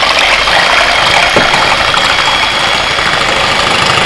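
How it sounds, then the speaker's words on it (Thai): An electric hand mixer whips egg whites for a young-coconut chiffon cake, giving a loud, steady motor whir that runs unbroken and close by with no voices. "ใส่ไข่ขาวลงไปทั้งหมดเลยแล้วก็อันนี้เราจะใช้เครื่องตีกันนะคะเปิดเป็นสปีด"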